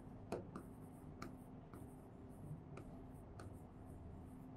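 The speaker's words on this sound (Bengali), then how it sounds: "আচ্ছা, আমি কি একটু লেখার চেষ্টা করি।" Handwriting on paper, faint quiet scratching strokes with several short sharp taps spaced irregularly, close and soft over a low steady hum.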